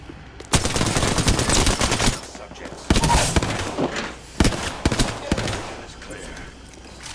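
Weapons fire during a match of the Apex Legends video game. Dense, loud bursts of rapid automatic shots come in three main volleys with brief gaps between them, then trail off toward the end.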